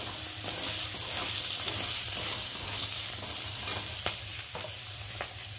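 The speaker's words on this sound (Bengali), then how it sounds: "দিয়ে একটু ভালো করে মশলার সাথে কাঁকড়াটা ভালো করে ভেজে নেব।" Crabs fry with spices in a pan for a tamarind-sour crab dish, giving a constant loud sizzle broken by occasional sharp clicks of a spatula, with no voices.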